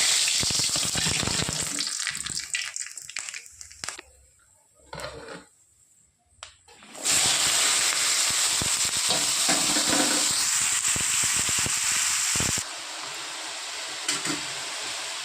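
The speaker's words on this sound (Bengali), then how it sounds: "এবার এই তিতা ভাজাটা করার জন্য ফোড়নে দিয়ে দেবো শুকনো লঙ্কা আর কালো জিরে।" Dry red chilies and nigella seeds hit hot oil as a tempering for a bitter-vegetable fry, giving a loud, steady sizzling hiss that drops away briefly midway, then returns strongly and continues to the end.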